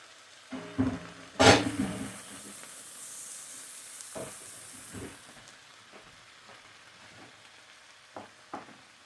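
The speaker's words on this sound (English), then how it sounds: "Then I'm going to add my peppers and my garlic and my ginger." Peppers, garlic and ginger hit melted butter in a pan with a sharp crackling burst of sizzle, then settle into a faint, sporadic frying hiss with a few small pops.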